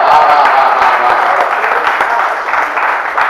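A live audience at a Hindi poetry gathering breaks into dense, sustained applause, loud and close, slowly thinning toward the end.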